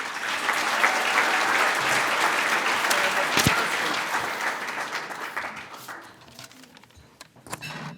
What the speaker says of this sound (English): So a round of applause for Mr. Norman.